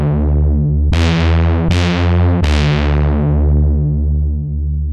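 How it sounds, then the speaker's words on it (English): A techno bass patch in the Serum synth runs through sine-fold distortion, sounding as a continuous buzzy bass tone retriggered in three bright, gritty stabs whose brightness fades after each hit, loud and alone. "Then the processing in Serum, which is really, really important for this bass,"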